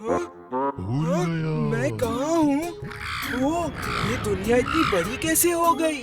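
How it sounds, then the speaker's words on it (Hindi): A cartoon crow caws in harsh, nasal calls mixed with animated character voices talking over each other, the cawing loud and close amid the dialogue. "ये कौवा मेरे पीछे क्यों पड़ा है?"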